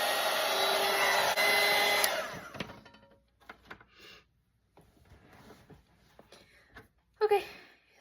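A hair dryer blows steadily and loudly on a watercolor painting for about two seconds, then cuts off, leaving quiet handling noises and a brief voice.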